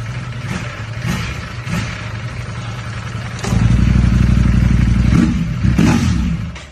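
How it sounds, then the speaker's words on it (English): A Ducati Panigale V4 idles in neutral with two cylinders deactivated, a close, loud, uneven engine rumble that deepens and thickens partway through, with some clatter over it. "if you put your bike in neutral, 2 of the cylinders stop engaging so your bike doesn't overheat as much"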